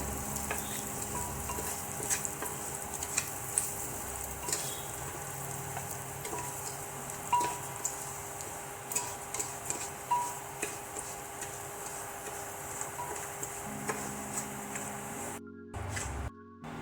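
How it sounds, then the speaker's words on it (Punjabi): Broken wheat dalia roasts in a pan with a soft dry sizzle, punctuated by irregular light taps and scrapes of a spoon stirring, fairly quiet and with no talking. "ਦਲੀਆ ਭੁੰਨ ਹੋ ਗਿਆ ਤੇ ਆਪਾਂ ਇਸੇ ਤਰ੍ਹਾਂ ਦਾ ਦਲੀਆ ਭੁੰਨ ਲਵਾਂਗੇ"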